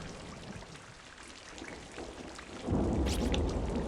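Heavy rain pours steadily in the horror video game Corpse Party, a dense hiss that surges louder partway through with a low rumble like thunder underneath, with no voices.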